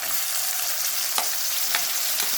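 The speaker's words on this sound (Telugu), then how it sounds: "ఇవైతే బాగా వేయించుకోవాలి." Onions frying in a pan for drumstick curry, a dense, loud, continuous sizzle with a couple of brief stirring scrapes near the end, heard up close with no voices.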